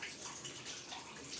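Running water rinsing a Thermomix bowl while a spatula works around it, a steady soft gushing hiss like a tap, quiet and continuous with no voices.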